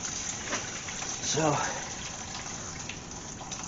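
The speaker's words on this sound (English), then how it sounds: "There goes all the water." Coolant water drains out of a BMW Z3 E36 engine during a thermostat and water pump change, a steady hissing gush that swells briefly midway. Someone speaks a word over it.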